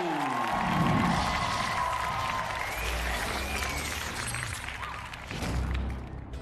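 A crowd at a WLF kickboxing championship event applauds to welcome a Chinese fighter, producing a sustained wash of clapping and cheering in a large arena, with a brief swell and thuds near the end.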